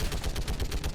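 Rapid automatic turret fire from Mass Effect 3, a steady rattling burst of shots that runs loud and close for the whole moment, with no voices over it.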